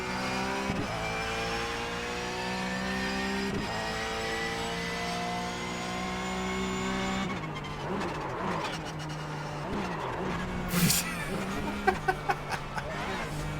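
A racing car engine in a sim racing video game drones through rising gear sweeps, shifting up repeatedly, then grows rougher with revving and a few sharp bursts toward the end.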